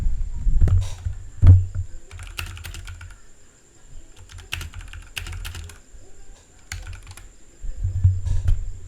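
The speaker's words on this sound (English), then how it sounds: "Now, let's say for example, I would like to type in" Fingers tap out a comment on a computer keyboard in uneven bursts of close, crisp keystrokes, with brief pauses between words and no talking.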